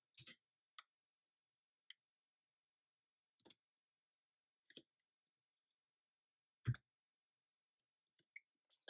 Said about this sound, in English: Press the key once.